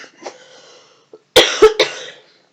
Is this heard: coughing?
yes